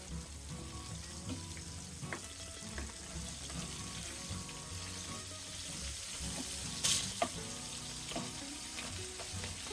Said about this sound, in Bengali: আর এভাবে আমি সবগুলো মাছ ভেজে নিচ্ছি